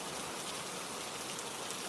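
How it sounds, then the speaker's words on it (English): Steady rain falling during a storm, a dense, even hiss of drops with no breaks and no voices, moderately quiet throughout. "As the storm howls outside and rain lashes against the ancient walls"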